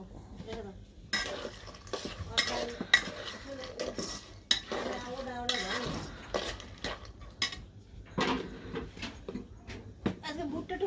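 Chickpeas being stirred in a pot with rapid metal spoon scraping and clinking against the pot, steady and busy throughout, with people talking over it.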